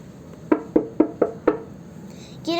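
Five sharp knocks on a door at a hair salon, evenly spaced and close, followed by the start of a voice at the very end.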